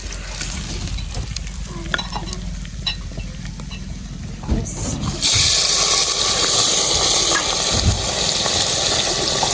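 Fish frying in a pan for a Sindhi fish recipe, with scraping stirs and soft clatter at first, then a loud steady sizzle that surges up midway and continues strongly to the end.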